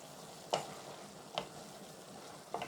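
Garlic frying in a pan on a stove, a soft steady sizzle with three brief stirring scrapes spaced apart, heard alone and fairly quiet.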